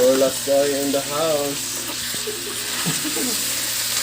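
Crab adobo simmering in coconut milk sizzles steadily in a pot as it is stirred, with a voice talking over the cooking noise near the start.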